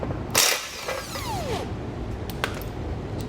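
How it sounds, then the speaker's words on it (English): A 13mm socket on a ratchet loosens a bolt on the passenger-side bracket under a 2020 Tesla Model Y, a sharp burst of metallic clicking followed by faint squeaks and a few light taps nearby. "we're going to take a 13mm socket, we're going to remove that bolt."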